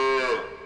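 A buffalo lows in a shed, one short, close moo that is loud at the start and trails off within a second.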